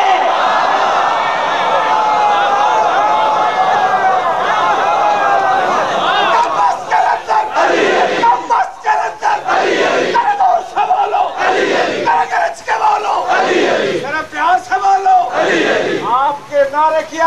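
Large crowd at a religious gathering chanting slogans in loud, rhythmic bursts, voices rising together in repeated surges after an opening sustained call, close and dense throughout.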